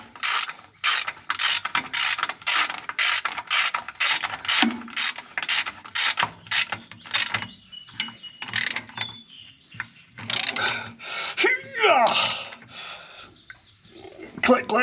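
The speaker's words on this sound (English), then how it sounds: "Click, click, perfectly torqued" A socket ratchet wrench clicks in quick, even bursts while torquing a bolt in a tight spot, the sharp ticks close and fairly loud, followed by scattered rattles and handling noises.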